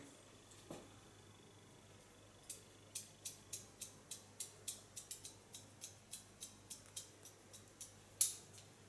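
Scissors point cutting hair for an asymmetric bob, a quick regular run of about fifteen crisp snips close by and quiet, preceded by a single isolated snip.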